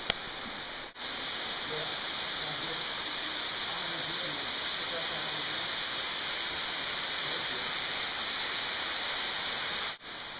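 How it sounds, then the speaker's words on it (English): Steady broadband roar of the Diamante Verde waterfalls on the Pacific side, a continuous rushing wash of falling water that stays loud and even throughout, with faint voices beneath it. "We've arrived at the waterfalls."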